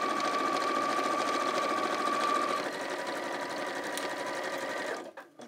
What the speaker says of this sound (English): the thicker the layer of fabric, the slower your machine seems to go